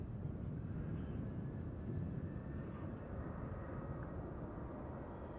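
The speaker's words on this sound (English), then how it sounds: "737-800 to Copenhagen is rolling now" A KLM Boeing 737-800 bound for Copenhagen rolling for takeoff at Schiphol on a morning departure, a faint, distant low rumble of jet engines that holds steady throughout.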